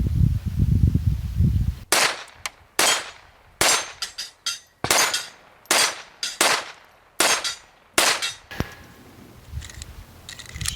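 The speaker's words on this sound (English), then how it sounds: "So very accurate pistol. I love those Mark IIIs." A Mark III .22 pistol fires at targets outdoors, a string of about a dozen sharp, loud shots at a slow, uneven pace, each with a short ringing tail. One or two shots come as quick pairs, and no one speaks.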